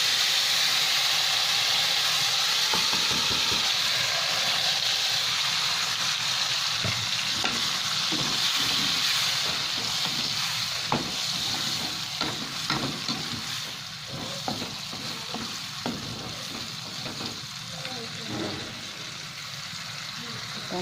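Seasoned tuna stir-frying in a pan for an Acehnese dish, a steady loud sizzle and hiss throughout, with scraping stirs clicking in more often toward the end.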